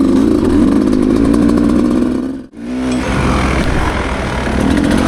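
Beta 250 XPro dirt bike engine revving up close, a loud buzzing two-stroke drone that dips briefly to near silence midway, then climbs back to a steady high rev.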